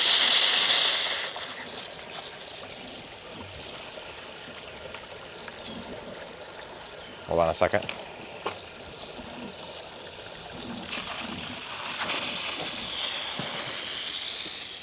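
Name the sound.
water rushing while back flushing sand filter tank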